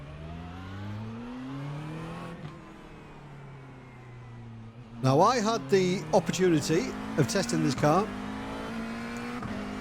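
A McLaren 720S GT3 race car's engine in the iRacing sim revs with smooth rising and falling tones, moderately loud, then continues under someone speaking.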